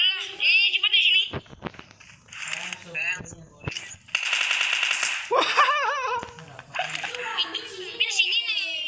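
Rapid gunfire bursts and single shots in the battle royale game PUBG sound over continuous excited conversation from players, with game effects mixed in.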